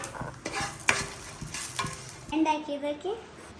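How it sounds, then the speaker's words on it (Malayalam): Cleaned prawns fry in coconut oil, with a soft sizzle and stirring clatter near the pan, followed by brief higher tones and noise near the end. "ഞാൻ ചെമ്മീനത് ഒന്ന് കഴുകി വൃത്തിയാക്കി വെളിച്ചെണ്ണ വെച്ചൊന്ന് ഫ്രൈ ചെയ്യാൻ കേട്ടോ"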